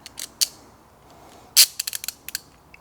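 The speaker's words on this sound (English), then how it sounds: "I'm just going to ratchet it, and it's going to cut the cable beautifully" Ratchet cable cutter clicking through a winch ground cable, a close series of sharp, irregular metallic clicks and snaps with a few louder bursts and quiet gaps between them.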